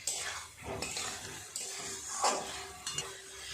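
Fried potatoes stirred into cooked masala in a pan for prawn kofta curry: scraping spoon strokes and clinks of metal against the pan over a soft, low sizzle, close and intermittent.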